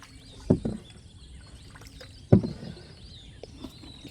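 A boat moving on water in a rural village waterway gives two faint knocks or splashes with quiet background between them and occasional soft bird calls.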